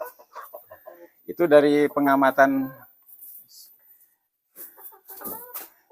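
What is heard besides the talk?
chickens clucking, a rooster among hens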